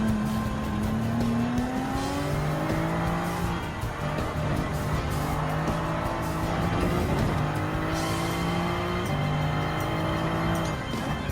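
Race cars in Gran Turismo 7, among them a BMW and a Toyota, roar past in a steady stream of rising and falling engine notes, with gear shifts stepping the pitch and faint tire squeal, sustained and moderately loud.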